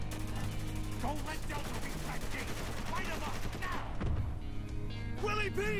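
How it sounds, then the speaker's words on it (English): Dense, continuous gunfire in the video game Spec Ops The Line, rapid shots layered over game music and effects, with a person talking and reacting over the battle. "What are they shooting at?"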